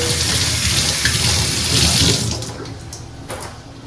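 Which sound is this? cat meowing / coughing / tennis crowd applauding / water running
water running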